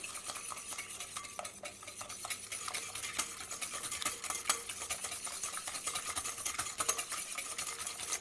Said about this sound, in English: next I'm going to whisk in my sugar